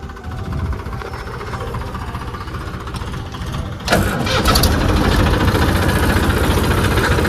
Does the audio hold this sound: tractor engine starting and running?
yes